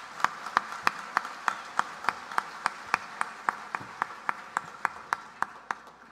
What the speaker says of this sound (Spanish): un aplauso para esta gran cultura cafetera del Tolima.